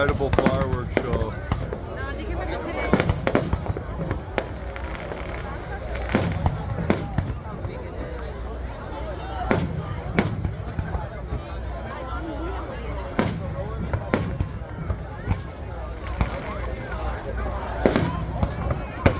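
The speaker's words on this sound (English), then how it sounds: "Incredible fireworks show." Fireworks display over a beach by a pier, with repeated sharp bangs and crackling firecracker bursts scattered irregularly, set against crowd murmur and ongoing nearby talk.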